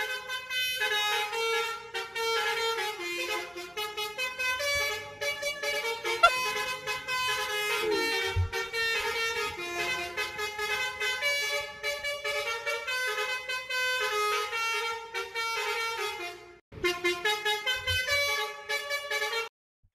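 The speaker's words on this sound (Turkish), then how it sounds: "En iyi korna basuri kornadır." A basuri horn, a musical honking vehicle horn played from a recording, sounds out a loud repeating tune of toots for about twenty seconds. The tune has a brief gap near the end.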